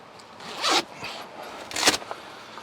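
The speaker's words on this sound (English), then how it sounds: "And then you can zip this up to keep it all nice and dark." Two quick zipper pulls on a fabric moon roof cover inside a 4x4 Chevrolet Colorado, each a short, close rasping zip about a second apart, with a soft creak between.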